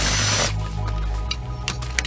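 Power drill mixing Terre De Somme groundbait with water, a loud whirring burst at the start that drops to a rougher churning drone with scraping and knocks as the mix is stirred.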